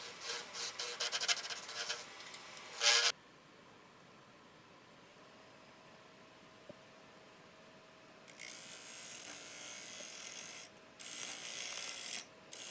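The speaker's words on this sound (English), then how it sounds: "this is a diamond parting tool that I'm using to make the recess" Diamond parting tool cutting a recess into a padauk bowl spinning on a wood lathe, with bursts of bright scraping that start, stop and resume, separated by a quieter stretch of low motor hum.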